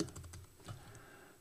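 Quick bursts of keystrokes on a computer keyboard as a file name is typed, a soft, close clatter of several taps followed by a brief pause and a couple more.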